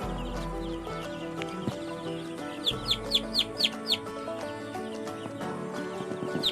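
Chickens cluck and chirp nearby in a busy run of short calls, with some scuffing and background farm noise.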